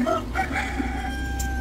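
A rooster crows loudly and close by, a single drawn-out call over low background noise.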